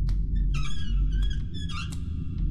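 Sink taps spun in a video game give repeated high, creaky squeaks in short bursts, heard over a steady low background hum.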